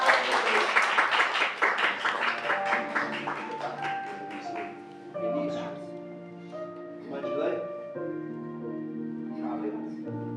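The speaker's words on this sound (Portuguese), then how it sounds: "Aplauda eles e aplauda o Senhor também." Applause in a church thanksgiving service, a dense burst of clapping at first that fades under sustained organ or keyboard chords and singing voices, with the music carrying on alone afterward.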